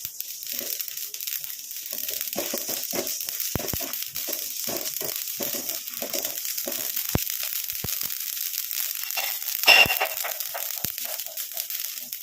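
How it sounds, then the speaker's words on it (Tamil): Mustard seeds and black cumin seeds spluttering in hot oil in a pan, a steady crackling sizzle with dense irregular pops throughout and one louder burst near the end. "எடுத்து நல்லா நம்ம ஃப்ரை பண்ணிக்கலாம். பாருங்கள், நல்லா பொரிய ஆரம்பிச்சிருச்சு."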